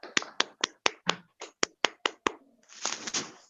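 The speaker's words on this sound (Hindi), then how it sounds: "एक बार हम लोग जोरदार तालियां बजाएंगे" About a dozen sharp, separate hand claps or taps in a steady rhythm, close and fairly loud, then a short burst of denser clapping near the end, heard during a health-product training session held for a trainer.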